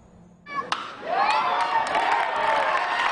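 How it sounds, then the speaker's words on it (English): Families in the stands at Volunteer Stadium in South Williamsport cheer at the Little League World Series, a crowd roar that swells abruptly and holds steady with shouts and whoops rising above it. "Families cheering on their sons or daughters as they look to win the Little League World Series"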